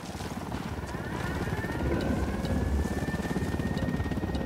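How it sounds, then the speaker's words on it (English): A helicopter in the video game Tom Clancy's Wildlands, its rotor thumping steadily with a whining engine tone, sustained and fairly close, with faint rattles over the drone. "Helicopter inbound."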